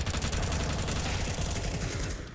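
AK rifle fire in a Counter-Strike 2 esports match rattles out as a dense, continuous burst of rapid shots, loud and close for the whole stretch.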